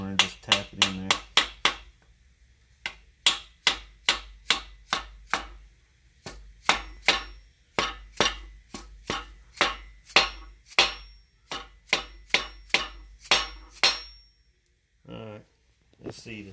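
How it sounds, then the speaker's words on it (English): Sharp metallic taps ring out one after another, dozens of quick strikes in uneven bursts, as a double hammer drives a crankshaft seal into place on a small block 400 engine. "double hammer and just tap it in there"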